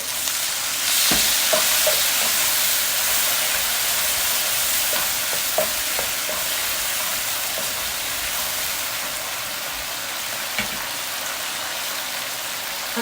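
Capsicum cooks in a pan with salt and a little water, giving a steady hiss and simmering sizzle like light rain, with occasional utensil clicks and no one speaking.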